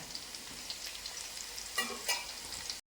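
Fish pickle frying in sesame oil in an uruli, a continuous soft sizzle with a couple of louder stirring scrapes near the end before cutting off abruptly.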